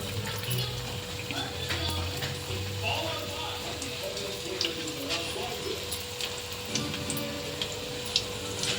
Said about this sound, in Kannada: ಫ್ರೆಂಡ್ಸ್, ಎಣ್ಣೆ ಕಾಯಕ್ಕಿಟ್ಟಿದ್ದೀನಿ, ಕಾಯ್ತೈತೆ